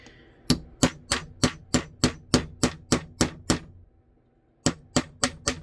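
A hammer taps a punch during 1911 pistol assembly, a close run of about twelve sharp, evenly spaced metallic strikes, a brief pause, then four more.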